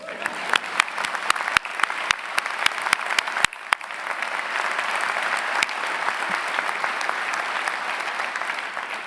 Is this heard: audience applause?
yes